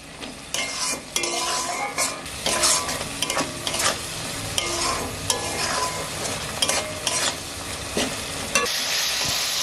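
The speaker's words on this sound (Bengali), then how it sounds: "এবার আমি মশলাটাকে ভালো করে নাড়াচাড়া করে ভালো করে কষিয়ে নিব" Spice paste with half a spoon of turmeric powder being stirred and fried in a pan, a steady sizzle under repeated scraping strokes of a spoon, close and continuous.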